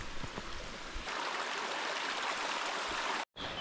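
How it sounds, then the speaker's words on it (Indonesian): A jungle river stream in dense forest flows with a steady, close rushing wash that holds evenly for about three seconds before cutting out briefly near the end. "Kami dah sampai di sungai keempat."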